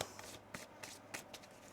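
Tarot cards are shuffled by hand in a quick burst of crisp riffling and slapping sounds, close and fairly quiet, with no talking.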